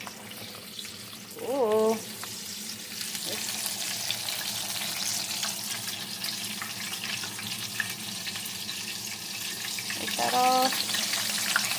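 Battered frog legs fry in a pan with a steady, moderate sizzle and light bubbling throughout, while a voice speaks briefly twice over it.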